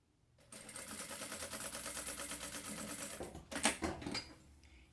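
A domestic sewing machine runs a steady, fast stitching seam along the leg of a small fabric backpack, a continuous close mechanical whir lasting several seconds before slowing, with a brief clatter near the end.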